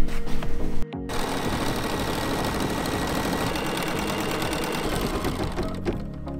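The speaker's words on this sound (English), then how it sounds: "We're going to sew the first stitch sequence to stitch a placement line for fabric B." An embroidery machine sews a placement line for fabric B in the hoop, producing a steady, fast mechanical needle rattle that runs continuously and fairly close after a brief start.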